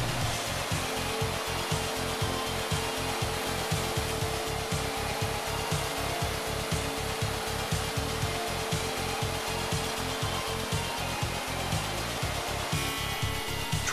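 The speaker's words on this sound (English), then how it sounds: "Countersinks for washers and drill holes for diagonal dowels of every style and diameter can be done on all sides of the timber" A Hundegger K2i joinery machine drills holes and countersinks while cutting timber, giving a steady close mechanical whine over a rapid regular low thumping pulse, loud and continuous without talk.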